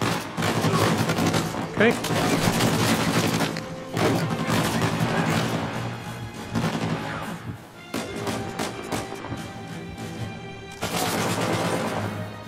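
Machine gun fire from Uncharted 4 rattles in dense, loud bursts over nearly the whole stretch, with brief gaps and someone talking over it.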